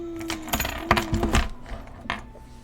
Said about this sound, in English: That's the keychain that Mommy attached to her phone.